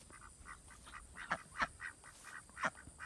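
Ducks quack repeatedly while playing in water, a scatter of short nasal calls close by with brief pauses, some louder and sharper than others, over faint background noise.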